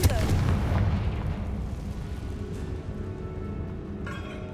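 A Confringo blasting spell goes off in the Hogwarts Legacy video game: one heavy booming burst at the start, then a long rumbling, crackling decay with a faint rattle near the end.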